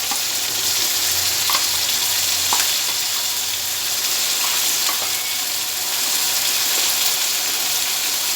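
Garlic paste fries in a hot pan for a gourd and rohu fish curry, a loud, continuous close sizzle with a few faint clicks from stirring, and no talking.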